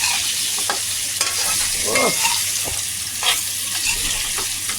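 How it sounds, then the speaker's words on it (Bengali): Mutton stir-fries lightly in a hot pan with a constant close sizzle, broken by occasional scraping and stirring knocks from the utensil. "জাস্ট হালকা, বেশি কড়া করে ভাজবো না"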